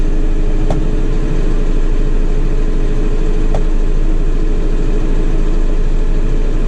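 A tractor engine runs steadily, throttled up with the PTO engaged to reach 540 PTO RPM while cutting pasture; a loud, continuous, even drone dominates throughout with no clear speech.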